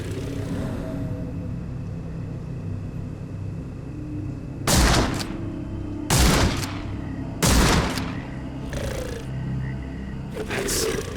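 Four loud rifle shots in Sherlock Holmes: The Awakened in a bayou swamp, spaced a second or two apart over a low ambient rumble.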